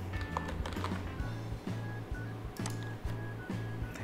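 Computer keyboard typing at a steady, moderate pace, with short clustered bursts of key clicks and no speech, recorded close to the keyboard.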